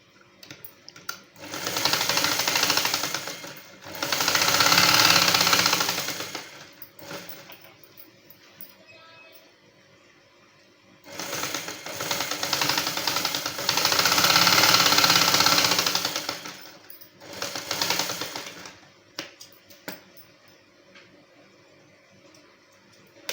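Sewing machine stitching the shoulder seam of a dress coat, running in several loud sustained bursts separated by quiet stretches, with a shorter run near the end.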